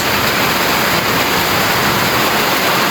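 Floodwater from a typhoon rushes in with a loud, steady, unbroken roar, close and dense like a torrent pouring through, with no voices over it.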